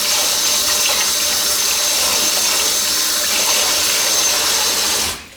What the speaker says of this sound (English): Let's just wash and rinse these ribs up for about 3 times.